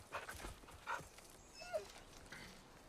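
Dog in the movie Prey, faint whimpers and yips heard through film sound with a busy noisy background, distant and low in level.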